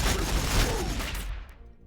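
Ork Boyz firing guns in the Warhammer Battlesector video game: a rapid, loud volley of overlapping gunshots that rattles on, then cuts off abruptly, leaving a short fading tail.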